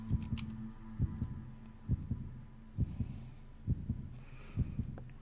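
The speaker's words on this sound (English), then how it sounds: "Okay. Heartbeat." A heartbeat in the horror video game Play Things thuds in a steady double-beat rhythm, about one beat per second, low and throbbing under a faint hum, with no voices.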